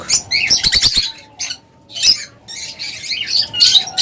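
Pet birds kept in pairs for sale call loudly nearby, with rapid bursts of high chirps and squawks in quick clusters separated by short pauses.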